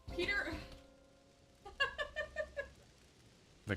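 A cat meows several times in a quick, rhythmic run of short calls at moderate distance, with a brief louder burst just after; game sounds sit underneath.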